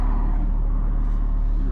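A 2022 Audi S3 (8Y) in sport mode drones loudly from inside the cabin as it accelerates, a dense low engine roar filling the short stretch without speech.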